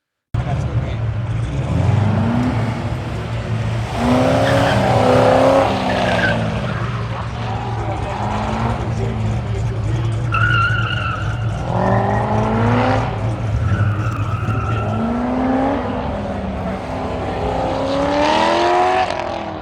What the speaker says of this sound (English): Really, any kind of exhaust setup is going to sound good with this engine.